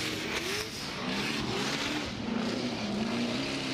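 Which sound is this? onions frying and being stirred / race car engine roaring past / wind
race car engine roaring past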